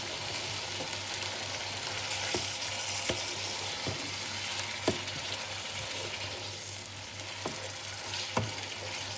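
A korma yogurt mixture frying in a pan: a steady, fairly quiet sizzle with a low hum underneath and occasional soft clicks, as of stirring, scattered through it, no talk.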